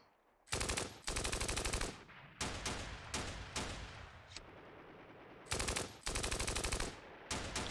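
Gunfire in the Steel Panthers video game during an Iran-Iraq war 1980 battle, with repeated loud bursts of rapid machine-gun fire separated by short pauses, several salvos in a row, with no talking.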